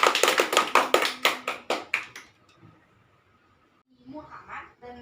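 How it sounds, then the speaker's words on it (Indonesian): A classroom of students claps in unison, a quick run of sharp, evenly spaced claps for about two seconds, followed by quiet and then a brief voice. "beri tepuk tangan"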